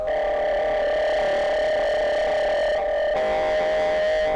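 Sustained buzzing distorted tone from a distortion plugin in Logic Pro X, a steady fuzzy harmonic drone with a slight shift partway through, loud and continuous without talk.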